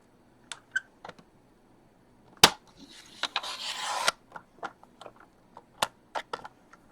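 A strip is cut off a quarter sheet of cardstock with scattered close clicks and a short scraping cut in the middle, no talking.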